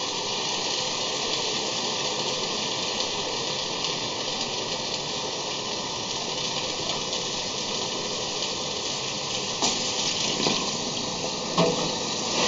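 Water pours steadily from a tap or container into a pot of restaurant-style chili, a constant rushing gush that holds evenly at moderate volume for several seconds with no voices.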